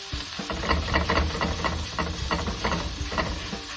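A smashed burger patty sizzles loudly in bacon grease, a close, dense hiss broken by rhythmic popping and spatter bursts, with no one speaking.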